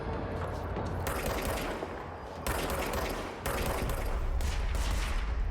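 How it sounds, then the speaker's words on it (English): Automatic weapons fire at the player in the Control video game, coming in loud, sustained bursts that start and stop several times, each volley a continuous rattling stream. "Oh, somebody's shooting at me."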